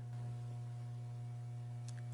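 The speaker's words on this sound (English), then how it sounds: "Microwave. Sounds like there's power." In an abandoned 1980s mall, a powered-on microwave gives off a faint, steady low electrical hum, a constant drone with no breaks and a faint tick near the end.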